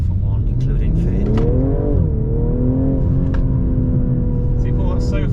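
BMW M240i straight-six engine revving hard under acceleration, a loud rising and falling engine note with rich harmonics that holds steady near the end, while people talk over it inside the car.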